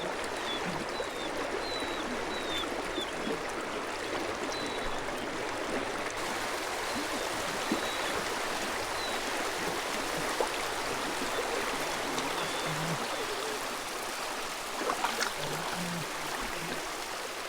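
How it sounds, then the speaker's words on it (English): A mountain river near Redfish Lake flows with a steady, broadband rush at a modest distance. Faint birdsong chirps over it early on, and a few small splashes or knocks come near the end. "The sound of the river."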